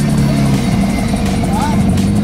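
A new Aston Martin Vantage pulls into a car meet, its engine a loud low rumble close by, mixed with crowd chatter and other idling cars.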